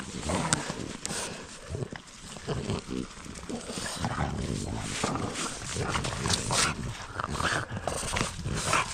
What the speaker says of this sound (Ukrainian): Ну хоч собаки набігаються сьогодні